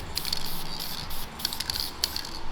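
Short bursts of a purple spray paint rattle can hissing onto brake calipers, several quick sprays in a row with brief pauses between, close by.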